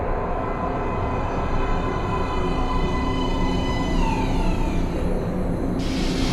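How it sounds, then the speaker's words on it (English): A subway train arrives at a platform in the video game Metro: Last Light Redux, a dense continuous rumble with a high whine falling in pitch as it slows, loud and steady throughout. "Please step away from the edge of the platform. Train coming in."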